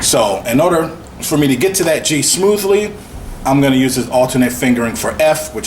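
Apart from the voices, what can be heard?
No distinct noise like a dog, phone or traffic.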